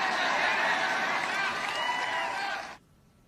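Political rally crowd at a Donald Trump event cheering and applauding, a loud dense wash of voices and clapping that cuts off abruptly near the end.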